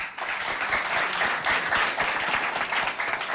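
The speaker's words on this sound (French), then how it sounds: "On applaudit encore les jurés," An audience at a school quiz competition applauds the jury, a dense burst of clapping at moderate level lasting a few seconds.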